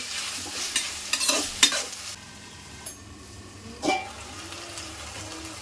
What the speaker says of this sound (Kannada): ಇದಕ್ಕೆ ಆಲೂಗೆಡ್ಡೆ ಮತ್ತೆ ಟೊಮ್ಯಾಟೊ ಹಣ್ಣು ಮಿಕ್ಸ್ ಮಾಡ್ಕೊಳ್ಳೋದು